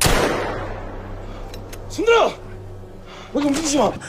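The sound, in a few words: police firing a pistol, gunshot in Korean drama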